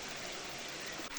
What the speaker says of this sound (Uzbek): Mana shu taridan suv chiqar ekan